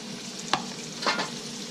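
Sixty grams of shrimp drop into a hot pan for beef and shrimp chow mein, raising a steady close sizzle with two brief scraping stir bursts and no talking.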